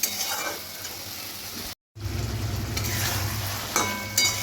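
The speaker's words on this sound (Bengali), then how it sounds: "এবার আস্তে আস্তে কিন্তু আমি কষাতে থাকবো, একটু ভালো করেই কষাবো" Ginger and cumin spices, with potatoes, are stir-fried in a pan for a fish curry, giving a steady close sizzle with scraping stirs and a few light utensil clinks, broken by a brief silent cut.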